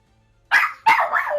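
A puppy lets out two quick, sharp, high-pitched barks at close range, the second running into a longer yelping tail.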